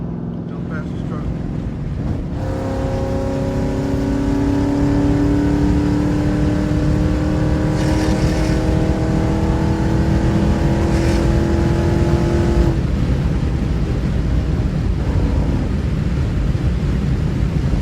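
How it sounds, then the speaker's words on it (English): A loud V8 engine revs up, its pitch climbing steadily for several seconds before dropping off, with a rumbling, windy background throughout. "you're gonna hear a screaming V8 just do its thing"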